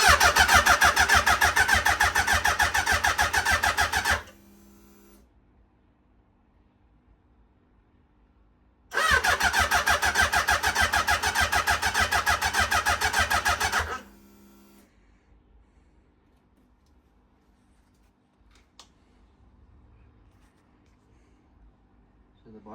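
A yellow Suzuki Hayabusa turbo motorcycle engine is cranked twice in a garage, each loud, steady churning burst lasting about four to five seconds, separated by quiet pauses.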